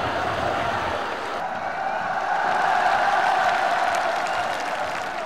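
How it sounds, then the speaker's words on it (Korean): A stadium crowd roars and applauds steadily as the leading Ethiopian runner enters the arena near the finish of the 2013 Pyongyang Marathon, forming a dense, continuous wash of cheering throughout. "관중들의 환호를 받으며"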